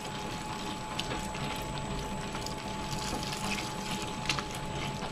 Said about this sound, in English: I'm going to slowly pour it in.